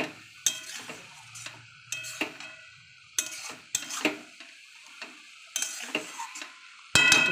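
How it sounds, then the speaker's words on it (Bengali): A spoon stirs vegetarian cabbage curry frying over a high gas flame, with repeated scraping strokes against the pan over a faint sizzle. "একটু নেড়ে দিই।"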